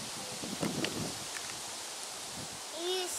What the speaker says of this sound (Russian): Ветер. Деревья шатает, да?